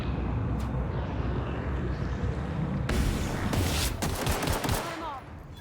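Gunfire erupts in The Outer Worlds during a fight in Edgewater, a loud sustained roar of rapid shots that grows harsher and denser in the second half, with the action churning underneath.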